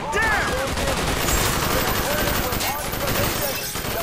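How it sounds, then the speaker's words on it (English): Dragon's Breath incendiary shotgun blasts in Call of Duty: Black Ops on PC, loud repeated booming shots over continuous chaotic gunfire and battle noise, with voices shouting underneath throughout. "It's Dragon's Breath. It shoots everywhere."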